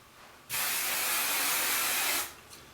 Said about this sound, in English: just do a light mist of hairspray on everything